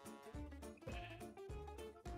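Sheep in the Minecraft modpack Create Astral bleat several times in quick succession, the wavering game-sound cries close and clear with no talk over them.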